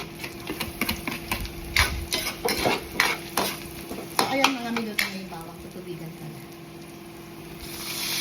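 Onion sautéing in cooking oil in a pan, with repeated scraping and knocking of a utensil against the pan over a soft sizzle, the stirring fading out near the end.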